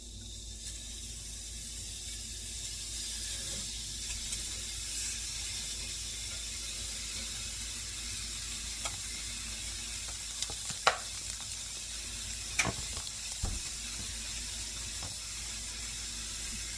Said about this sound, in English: I have some ground turkey, so I'm going to just get it into the pan and try to break it up as much as I can